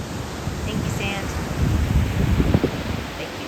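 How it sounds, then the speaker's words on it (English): Ocean waves washing ashore at Dillon Beach on the Marin coast, a steady broad rushing wash with a swell building in the second half, heard alone over wind-like noise. "Thank you, waves."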